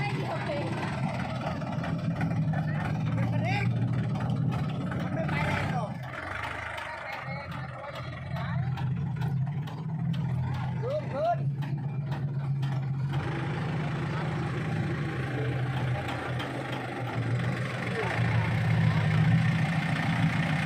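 A farm tractor engine runs steadily while being driven and steered, a continuous low drone that lasts throughout, with people talking and calling out instructions over it.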